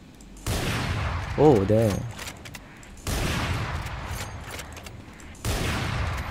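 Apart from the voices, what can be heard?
sniper rifle gunfire in the video game Valorant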